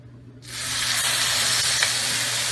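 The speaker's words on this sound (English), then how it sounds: "Also, this has been preheating for 5 minutes and it's really smoking, so I got to get them in there." Ribeye steaks hit a smoking-hot, preheated Lodge 17-inch pre-seasoned cast iron skillet, bursting into a loud, close, continuous hiss of searing that holds steady after a quiet start.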